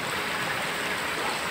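Creek water flows steadily behind a house, a continuous close rushing with no pauses, running alone without voices.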